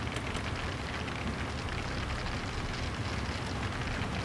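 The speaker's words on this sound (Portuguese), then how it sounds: "Olha o barulho da chuva." Steady, dense rain in the video game 18 Wheels of Steel: Across America hisses and patters continuously at an even loudness, with no voices.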